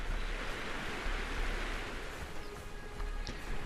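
Ocean waves wash and lap continuously in the survival game Conan Exiles, forming a broad, steady rushing surf at moderate volume with gentle swells and no voices.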